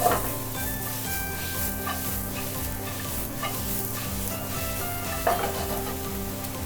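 Sausages and green pepper stir-fried in a frying pan with chopsticks for Japanese Napolitan spaghetti: steady close sizzling with intermittent scraping and stirring clatters, a sharper knock near the end.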